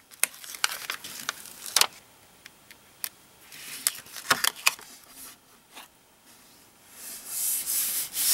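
Adhesive craft tape is pressed and smoothed down by hand, giving soft rubbing and scattered taps and crinkles that are close and faint, with a longer rubbing swish toward the end.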